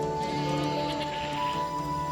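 Goats bleating in a hillside forest of Garhwal, a steady sustained bleat with tonal harmonics that holds across the whole stretch, fairly loud and close, with no talk over it.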